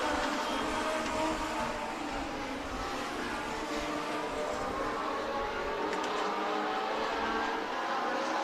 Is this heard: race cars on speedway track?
yes